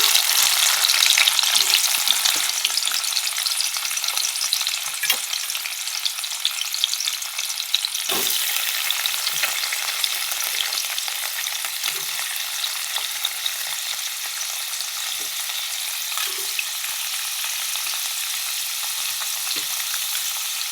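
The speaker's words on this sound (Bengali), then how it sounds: "ঘিটা গরম হয়ে গেছে এবার পনিরগুলো দিয়ে" Paneer pieces frying in hot ghee, a steady bright sizzle and crackle throughout with occasional stirring clinks, close and alone without talk.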